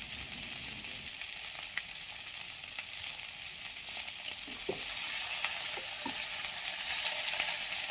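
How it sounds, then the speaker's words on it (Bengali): A spice paste for doi koi fish curry fries in a pan with a continuous close hiss and sizzle, growing slightly louder toward the end, with a few soft spoon scrapes and taps while it is stirred; no one speaks. "ভালো মতন এটাকে কষিয়ে নিতে হবে"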